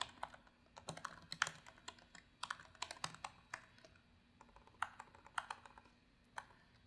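An email address is typed on a computer keyboard in quick bursts of light, close clicking keystrokes separated by short pauses, with no voices over it.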